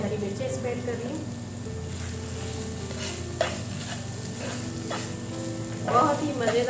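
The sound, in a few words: green chillies added to an egg roll frying in a pan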